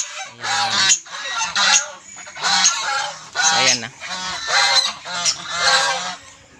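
A female goose honks loudly and repeatedly up close on a farm, a series of harsh, nasal calls coming in bursts about every second.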